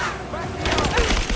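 Gunfire in Rise of the Tomb Raider, a quick volley of sharp shots that intensifies after a brief lull amid loud combat noise, with voices shouting.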